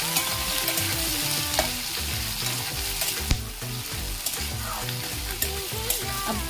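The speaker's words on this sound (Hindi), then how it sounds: "अब इसको सुनहरा कलर आने तक फ्राई कर लेंगे।" Chopped onions fry in a pan with whole spices, sizzling loudly and continuously, with scraping stirs and the odd clatter of a spoon against the pan, close up and without speech.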